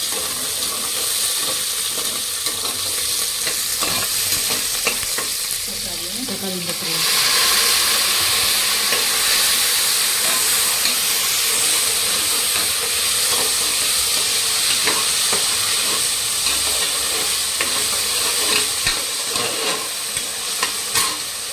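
Shallots and other ingredients are sautéed in a pan for rice-and-lentil dish, with a constant loud hiss and sizzle and a few scraping stirs, close, with a faint voice at times.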